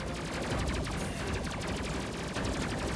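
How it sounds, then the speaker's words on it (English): Spaceship main guns in the game Space Crew fire rapidly and continuously, a dense rattling barrage that runs loud and unbroken throughout. "keep the main guns firing"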